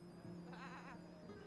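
People imitate sheep with a wavering, bleating cry lasting under a second, heard over a steady background hum in a comedy sketch.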